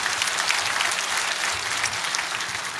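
A congregation applauds inside a church, a thick, continuous wash of clapping from many hands that holds loud and steady for a few seconds.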